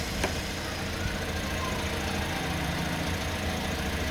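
A repaired auxiliary fan motor from a 2024 Toyota Vios runs on test, giving a steady, even mechanical hum and whir that holds constant throughout.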